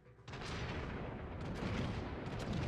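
Heavy battleship main guns fire in the World of Warships naval game, a deep booming blast that sustains as a loud rumbling roar for several seconds, with no talk over it.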